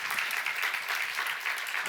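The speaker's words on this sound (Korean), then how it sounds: "박수를 하세요" Church congregation clapping together during a sermon seminar, steady dense applause filling the room at an even level, no voices over it.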